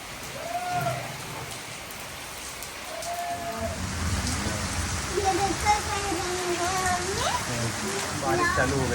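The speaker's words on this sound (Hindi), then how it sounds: "बारिश चालू हो गई दोस्तों सुबह सुबह।" Heavy morning rain pours steadily in a continuous hiss that grows a little louder over time, with faint voices and other tonal sounds in the background.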